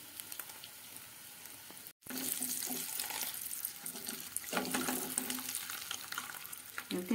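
Eggs fry in hot oil with turmeric in a kadai, a steady close sizzle with spatula stirring and scraping; a brief silent gap occurs early, then the crackling frying resumes and swells, with no speech.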